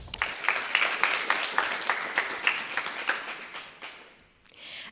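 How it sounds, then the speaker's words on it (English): A crowd at a community celebration claps for Martha in a steady, rhythmic round of applause that holds for about four seconds, then dies away into room noise. "So biggest round of applause for Martha."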